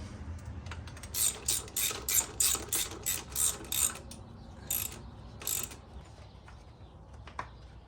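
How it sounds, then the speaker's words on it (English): A ratchet wrench tightens the 1/2-inch front axle lock nut on a 2017 BMW S1000RR, giving a close run of quick clicking bursts followed by a couple of shorter ones over a low background hum. "torque this 1/2-inch lock nut down"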